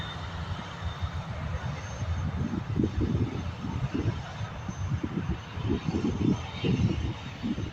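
A Norwegian airliner taxis at an airport, its jet engines giving a steady, fairly loud rumble that holds throughout with slight pulsing swells and no talk over it.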